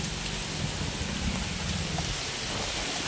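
Heavy rain falling during Cyclone Dana in Odisha, a steady dense hiss of downpour with a low rumbling undertone, continuous and fairly loud with no voices.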